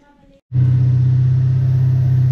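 A Toyota 1UZ-FE V8 in a pickup ute, air filter off, roars up suddenly from quiet into a loud, steady, deep engine drone held close by.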